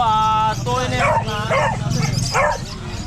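Pomeranian puppies, about 2.5 months old, give high yips and barks, a sustained whine at first and then several short bursts, close by over a low background hum with people talking nearby.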